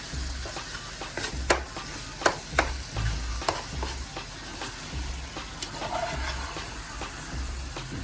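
Minced chicken frying in a pot for a Jamaican dish is stirred and broken up with a utensil. A steady sizzle sits under repeated scraping strokes and soft knocks against the pot.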